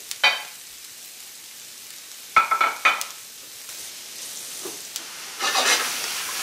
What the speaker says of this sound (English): You want to saute these vegetables very lightly, very quickly.